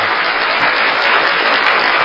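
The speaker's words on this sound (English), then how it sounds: "The applause, bro." Steady applause from a crowd at a casual gathering, a dense unbroken wash of clapping lasting the whole moment with no voices over it.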